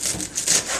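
A knife slices through rolled-up cabbage leaves on a cutting board, giving a quick series of soft, crisp rasping cuts in under a second, close and fairly loud.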